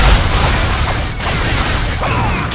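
Bomb blasts and battle clamor from Dynasty Warriors 3, a dense, continuous roar of booming impacts with several heavier hits, loud and close throughout.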